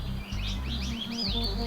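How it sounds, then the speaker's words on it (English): Small birds chirp and tweet in quick, high repeated phrases at a wildlife lodge in Corbett National Park, India, heard over a steady low background rumble. "guests can expect to be welcomed by a melody of singing birds."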